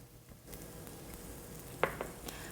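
Butter melting in a pan with sautéing carrots makes a soft, low sizzle, with a couple of sharp utensil clicks and scrapes partway through.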